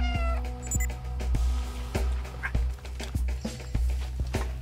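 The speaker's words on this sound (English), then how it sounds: "I'm gonna try meowing and then running." A cat meows repeatedly in a video game, fairly quiet, over a steady low hum and a regular ticking pulse. There is no speech.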